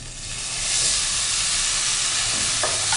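Cashews and raisins fry in ghee, giving a steady close sizzle and hiss with a brief stirring scrape near the end and no talking.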